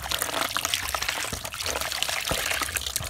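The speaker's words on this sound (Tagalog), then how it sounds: "Wala ni hugasan mga chong para siguradong limpyo ang atong kaunon." Tap water pours and splashes steadily as food ingredients are rinsed, a continuous close trickling and spattering with no voices.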